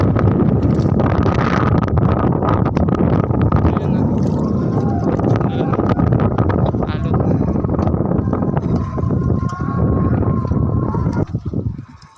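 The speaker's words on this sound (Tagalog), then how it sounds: "Lakas kasi bulusok ng hangin." Strong northeast monsoon wind batters a boat at sea, a loud, constant rushing roar buffeting the microphone for the full length, with faint clattering and a hint of voices underneath.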